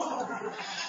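A goat bleats once, a drawn-out wavering cry close by, lasting nearly a second and fairly loud against a quiet background.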